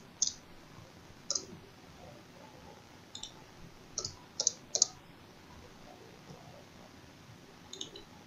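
Sparse computer mouse clicks sound while a design is edited in Graphtec software: a handful of quiet, sharp clicks spaced irregularly over faint background hiss, some in quick pairs.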